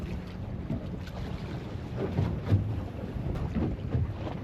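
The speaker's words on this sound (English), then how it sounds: "The wind's blowing this way" Wind gusts across an open fishing boat at sea, a steady rushing buffet on the microphone with swelling low rumbles and faint water sounds beneath, and no talking.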